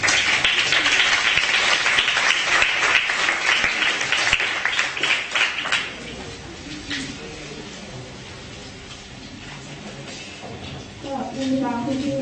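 Delegates at a Model UN session break into loud, dense applause after an amendment passes. The clapping lasts about six seconds and then gives way to quieter room sound and brief talk.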